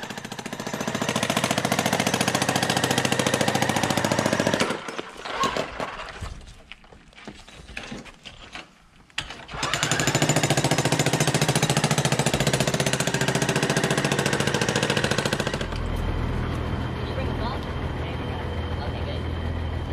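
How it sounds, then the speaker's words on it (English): A jackhammer punches drain holes through a concrete swimming pool during demolition, loud rapid pounding close by that drops out briefly midway, then resumes alongside heavy machinery rumble. "the first order of business is to punch the drain holes"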